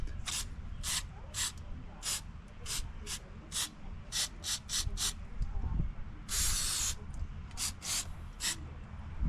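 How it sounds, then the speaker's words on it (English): Short, sharp bursts of throttle body cleaner spray onto a Cub Cadet engine repeat a dozen times over a low background hum, with one longer hissing blast in the middle. "So I got some throttle body cleaner."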